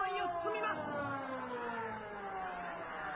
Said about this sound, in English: That siren's starting to die down here, folks.